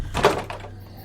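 A door swings open in a horror tale, one close short knock and creak with a faint second thud afterward, then quiet.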